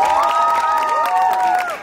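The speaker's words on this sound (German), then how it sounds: "Also bitte ganz großen Applaus für die letzte" A loud crowd at an outdoor K-pop performance at Kieler Woche 2024 cheers and claps, with high shrill shrieks and whoops over steady applause for a couple of seconds.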